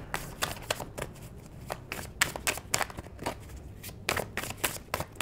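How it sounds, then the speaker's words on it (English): Rapid riffling of tarot cards being shuffled, a series of crisp fluttering bursts close to the listener, with soft handling noises between them. "One more shuffle."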